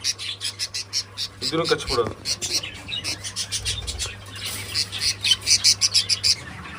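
Caged pet birds, including yellow birds and red-eye birds, chirp in quick repeated bursts close by, with a steady low hum running beneath and a brief scuffle partway through.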